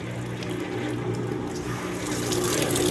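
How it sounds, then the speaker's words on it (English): A Maytag commercial washer's pump drains water in a steady, continuous rush with a low mechanical hum underneath, close and fairly loud throughout. "The pump is pumping."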